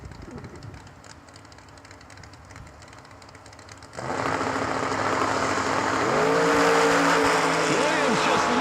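Drag race cars, an all-Camaro pairing including a wheel-standing 1968 Camaro, launching at a nationals event; engines roar up suddenly and hold loud and steady, pitch sweeping as they accelerate over crowd and announcer noise.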